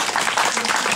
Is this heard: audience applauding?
yes